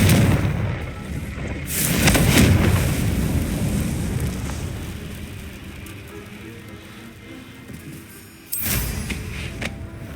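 A Confringo blasting spell bursts in Hogwarts Legacy as a loud booming explosion with a rumbling tail, and a second sharp blast hits near the end, all without speech.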